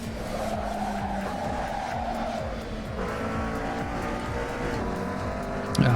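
A McLaren 650S in Assetto Corsa at Watkins Glen skids under hard braking, its tires scrubbing and squealing over a steady engine drone, with a sharp tonal screech rising toward the end.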